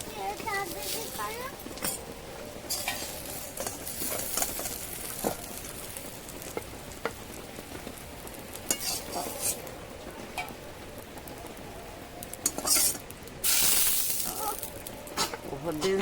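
Giant taro (mankochu) fritters fry in a pan of hot oil in a village kitchen, giving a dense, steady sizzle and crackle throughout, with people talking over it.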